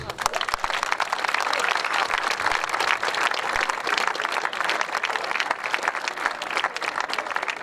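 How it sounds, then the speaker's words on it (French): A crowd at the inauguration of a bullring arena claps in dense, continuous applause that stays steady and lively from start to finish. "je vous demanderai de les applaudir"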